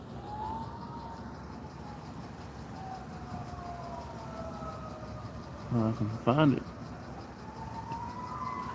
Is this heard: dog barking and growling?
no